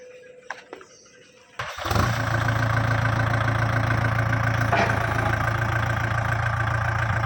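A 2018 Kubota 50 hp tractor engine cranks and catches after a quiet start with a few knocks, then settles into a loud, steady diesel idle with a constant low rumble.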